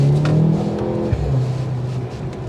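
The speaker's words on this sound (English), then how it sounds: "and then I'm gonna push the gas" A 2023 Mercedes C43 AMG accelerating hard, its engine note loud and close, rising and revving steadily throughout with a brief deeper surge midway and no talking over it.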